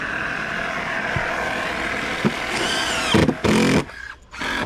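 A power drill whirs loudly close by as it drives screws into a mobile home trailer roof, with a couple of short bursts of the motor near the end and no talking.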